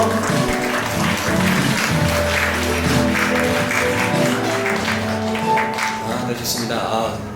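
Wedding guests applaud after a congratulatory song, sustained clapping from a room full of people that carries on steadily and fades a little at the end, with a voice talking over it.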